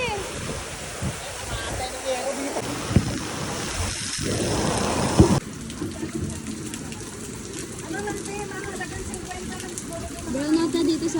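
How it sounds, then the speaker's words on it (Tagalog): Heavy typhoon rain pours down in a dense, steady roar at a market, with gusts of wind surging through and voices talking over it. "sobrang lakas ng ulan, hangin, grabe."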